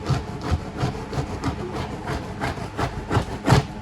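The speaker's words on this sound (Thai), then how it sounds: "เอาเล็บขวนได้" A fingernail scratches across a 6D car floor carpet in a series of short, rhythmic rasping strokes, close and fairly clear, with no talking.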